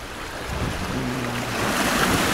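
Sea water washing at a pebble beach of small white stones in Alanya, a soft steady surf rush that swells louder toward the end, with a faint low hum in the middle and no talk.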